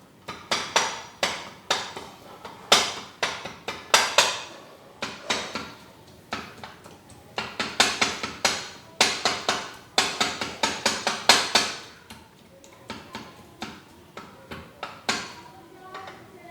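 Repeated hard taps of a metal spoon pressing mint leaves in a glass with lemon juice for a mint margarita, sharp clinks in irregular bursts, close and fairly loud.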